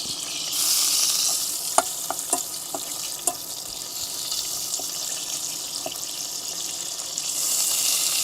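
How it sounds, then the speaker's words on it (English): Bacon frying in a pan inside a camper van: a continuous bright sizzle and crackle holding steady throughout, with a few small clinks and pops, close and moderately loud. "I'm obviously making bacon"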